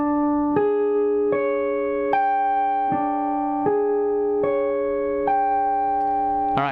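Guitar notes picked one string at a time and left ringing, about eight evenly spaced plucks with each tone sustaining and overlapping the next, close and clear, ending in a brief bright strum.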